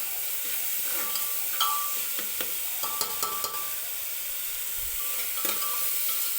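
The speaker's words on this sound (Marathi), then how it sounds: "व्यवस्थित हा मसाला जो आहे तो आपल्याला तेलामध्येच परतून घ्यायचा आहे." Coconut masala paste sizzles steadily in hot oil while being stirred, with scattered scraping clicks of the spoon against the pan, close and continuous with no talking.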